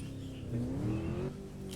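A motorbike engine in the Roblox game revs with a steady, buzzing tone that climbs in pitch and swells louder midway, then settles back, close and alone with no talking.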